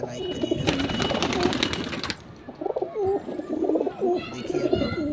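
Low, throaty Devbandi pigeon cooing repeats in short rolling phrases, preceded by a burst of broadband rustling or flapping noise.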